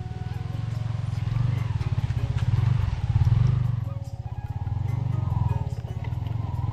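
A Yamaha R15 V3 motorcycle rides past a road blocked after heavy rain, its engine pulsing steadily up close, the sound swelling and easing slightly as it moves.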